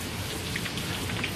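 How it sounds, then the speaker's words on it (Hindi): Heavy rain pours steadily outside, a dense continuous patter of drops hitting surfaces close by, with no voices over it. "बाहर तेज बारिश हो रही है ना"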